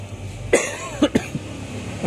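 A person coughs several times in short, sharp bursts, close and fairly loud over a low background hum, with no talking.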